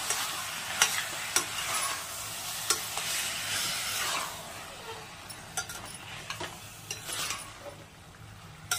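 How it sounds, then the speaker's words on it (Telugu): Yogurt is stirred into potato kurma in a pan, a spoon scraping and clinking against the metal in irregular strokes over a quiet, low sizzle, with no voices. "పెరుగు వేసి బాగా కలిపేసి"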